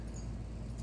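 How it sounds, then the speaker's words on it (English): A small bunch of household keys jangles briefly and softly, a quick metallic rattle lasting under a second. "so here's my keys."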